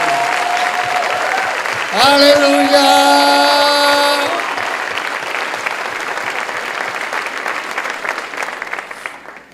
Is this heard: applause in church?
yes